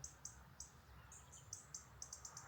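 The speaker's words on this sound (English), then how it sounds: "there is this quiet orchestra of birds, each voice delicate" Small birds chirp on a quiet French countryside morning, a series of short, bright, high tweets repeating at an irregular pace over faint background hiss, soft and fairly close.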